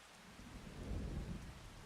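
Steady rain with a low rumble of thunder rolling underneath, heard out in open farm country during stormy weather, a continuous wash of noise that swells slightly in the middle and carries no voices.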